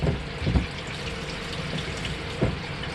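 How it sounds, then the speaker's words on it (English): Water drains from the plumbing of a 2020 Seneca 37K RV through quarter-turn valves, a steady close-up rush and splatter of running water broken by a few louder gushes. "I like to drain all the water out of systems even when I'm storing it for a month"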